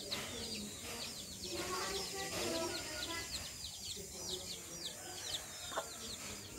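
Busy chirping and clucking from hens and tiny chicks, high peeps sounding continuously over a low murmur, with a brief voice in the background.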